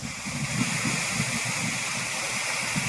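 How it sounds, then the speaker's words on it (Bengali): Water rushes and gurgles steadily from a waterfall and stream on a rainy hillside near Changey Waterfall, a continuous broadband roar with low bubbling, filling the whole stretch without talk. "জলের কলকল শব্দ, ঝর্ণার কলকল শব্দ"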